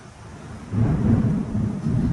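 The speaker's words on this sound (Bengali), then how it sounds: "প্রচণ্ড জোরে ঝড় বৃষ্টি নেমেছে" A heavy thunderstorm with rain: a loud, deep rumble of thunder swells after a quieter start and rolls on steadily over the hiss of rain, close and continuous.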